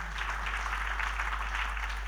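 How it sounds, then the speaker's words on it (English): Conference audience applauding after a panel session on workplace digital wellness, a dense, steady wash of many hands clapping from a full room, sustained at even loudness with no voices. "See, thunderous round of applause as well"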